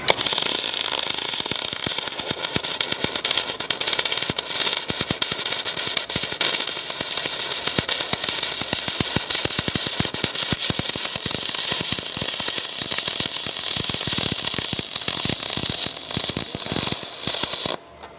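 MIG welding on 1/8 inch aluminum with the gun held on a steady pass, giving a continuous loud, close crackling buzz that runs for about seventeen seconds before it abruptly stops.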